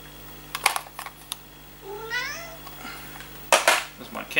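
A house cat meows in a room where retro MSX cassette games are being shown, a rising and falling call near the middle, with scattered clicks and handling noises before and a louder clatter after.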